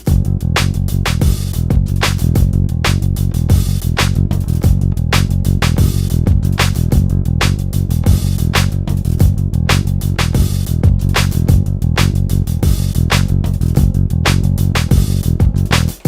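A Dingwall electric bass holds a basic subdivision groove, with dense, even, driving notes sustained at steady loudness throughout and no voice over it.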